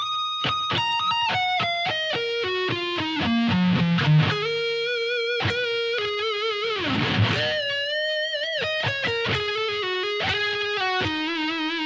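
The solo played slowly on electric guitar with effects and slight distortion, a run of picked single notes stepping down, then bends, slides and a sustained vibrato note, close and alone.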